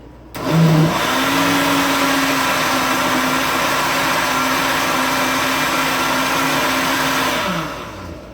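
A blender making immune-boosting juice starts up and runs at a steady, loud, continuous whir for about seven seconds before winding down, with no voices over it.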